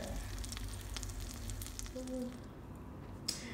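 Pancake batter frying in a pan for breakfast gives a steady, moderate sizzle that hisses on throughout, ending with a single faint tap.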